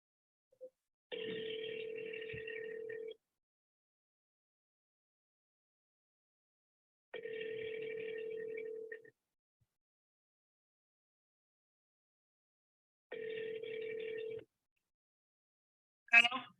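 An outgoing telephone call rings back with three steady two-second tones separated by long silences, and a voice comes in at the very end.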